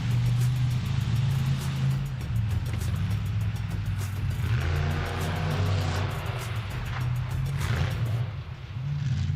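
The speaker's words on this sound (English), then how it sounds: "We'll see one final donut maybe from Reaper" A drift car revving through a donut at the D1NZ Drifting Championship at Manfeild Circuit, a loud, continuous engine drone with rising and falling revs heard from trackside, easing off at the end.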